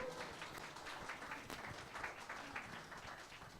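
An audience at a broadcaster's launch ceremony claps steadily, a dense, even wash of applause that holds at a moderate, fairly distant level throughout.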